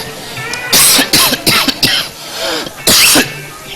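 A person coughs in several sharp, harsh bursts, close and loud, with short pauses and a final forceful cough near the end.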